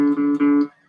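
A single plucked guitar note, D, rings out briefly, then fades quickly to near silence.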